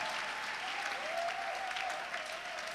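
A church congregation applauds, with sustained even clapping from a large crowd across a hall and a faint tone underneath.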